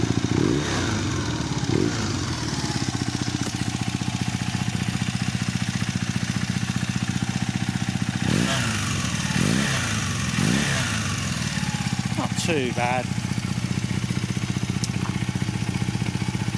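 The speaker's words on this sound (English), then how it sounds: "let's start her up and see what she sounds like" A classic motorcycle runs on freshly fitted Mega exhausts, a loud, steady, throbbing engine note with a few blips of revving and some mechanical clatter, and someone briefly speaks near the end.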